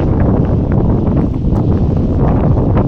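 Strong wind buffets the microphone outdoors during a harvest, a loud, low, constant roar with no voices.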